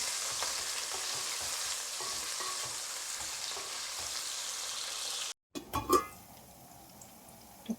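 Onion, tomato and green chillies fry in a pan for kushka, a steady loud sizzle with stirring scrapes that stops briefly, then returns quieter with a few clinks and knocks.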